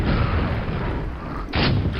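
Explosions of spheres in the video game Quake: a continuous roaring, crackling blast that fills the clip, with a fresh burst swelling near the end, loud and close with no talk.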